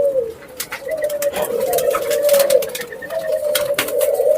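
White ringneck doves at a backyard dove farm coo steadily, their soft, low calls overlapping in a continuous close murmur with no pauses.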